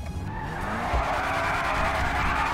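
A 2020 Bugatti Bolide mod car in GTA 5 roars with a loud, sustained engine drone and tire skid noise, a dense continuous racing sound with no talk.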